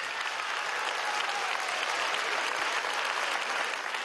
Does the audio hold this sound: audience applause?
yes